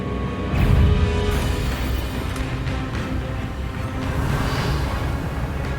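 Revelio revealing spell cast in the PC game Hogwarts Legacy, a broad swelling magical burst that rises early and then fades into a sustained game soundscape, with no talking.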